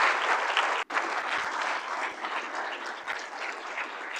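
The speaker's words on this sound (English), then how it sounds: "let's keep the round of applause going for all of our presenters" Sustained audience applause for the junior and mid-level presenters at the Walleye Tank Spring 2024 pitch event, a dense, steady wash of clapping from a crowd with one brief dropout near the start, no talking over it.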